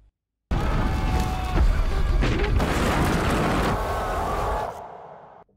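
A huge blast tears through a mountain in a film scene: a sudden loud booming explosion followed by seconds of rumbling, crackling debris that slowly fades out.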